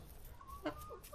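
A chicken kept in a city gives a short, faint cluck, heard alone and close.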